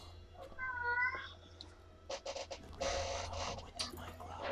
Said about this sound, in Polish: mój kot znowu się rozpłakał